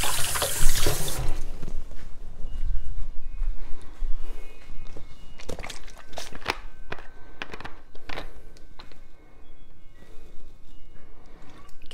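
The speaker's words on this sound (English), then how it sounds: "Rinse my hands." Hands are rinsed under running water at a kitchen sink, with a loud splash at the start followed by softer water sounds, clunks and clatter nearby.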